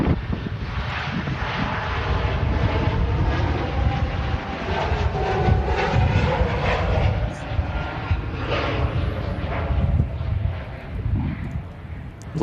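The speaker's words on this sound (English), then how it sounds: "They are very quiet, the Helvetic E2s" A Helvetic Embraer E2 jet with Pratt & Whitney 1100G engines gives a loud, steady broadband roar that holds throughout, heard outdoors at close range from an airport viewing spot.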